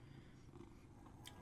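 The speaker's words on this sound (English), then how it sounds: "I swear he just started purring louder." A cat purrs in a low, continuous rumble, close and soft, with a brief faint higher noise near the end.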